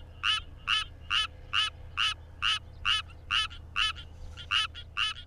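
Tree frogs calling at night, Suwon tree frog and common tree frog, in a steady train of about a dozen evenly spaced, sharp croaks, clear and fairly close over a faint low hum.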